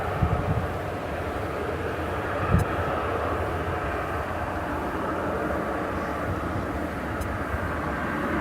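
Airliner at DFW Airport on a long-haul flight to Sydney, a loud continuous engine roar with a broad rushing rumble that holds steady throughout, with no talking.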